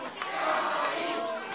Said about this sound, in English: The crowd again chanting, Shorty, Shorty, Shorty.